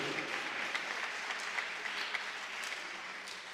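An audience at a primary school graduation ceremony applauds steadily, a broad, even roar of many hands clapping with a few sharper claps standing out, sounding somewhat distant and reverberant.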